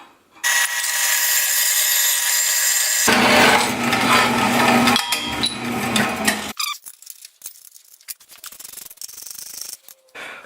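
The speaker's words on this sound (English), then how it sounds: "And I can cut the aluminum by hand." An aluminum piece is sawn by hand on a motorcycle fork swap job, a loud steady rasping stroke that runs for a few seconds, stops, then resumes in shorter, uneven bursts with pauses.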